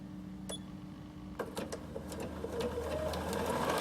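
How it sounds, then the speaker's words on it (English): A Bernina 7 Series sewing machine stitches at a lowered speed setting, a steady mechanical whir with rapid needle clicks that builds and grows slightly louder over a few seconds, alone without talk. "I'm going to start sewing."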